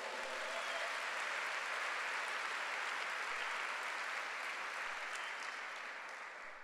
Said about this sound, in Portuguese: Pode dar um aplauso a Ele.